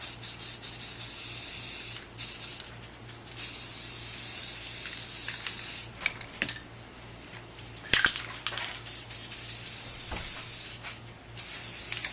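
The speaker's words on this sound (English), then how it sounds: "I want to get a little bit of spatter on this. I'm just using a red spray paint" Red spray paint hisses onto the blade of a prop weapon in steady, close bursts, with short gaps between passes and a low background hum throughout.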